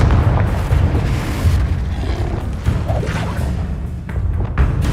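A Confringo blasting spell explodes in the Hogwarts Legacy video game, setting off loud, dense booming blasts and rumbling crashes that continue through the whole stretch without a break.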